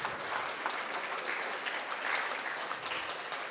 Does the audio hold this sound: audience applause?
yes